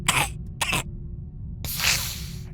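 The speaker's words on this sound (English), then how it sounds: "a far, raspier voice said, taking a moment to cough sickly before continuing." A raspy-voiced character coughs sickly: two short harsh coughs close together, a pause, then a longer rough hacking cough, all near and fairly loud over a low background hum.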